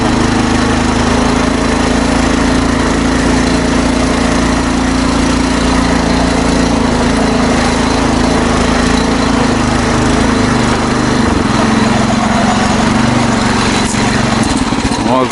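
SR-32 Light Pro-R tricycle engine while riding over rutted ground, a loud, steady buzzing drone with a constant pitch that runs throughout, with someone talking over it at times.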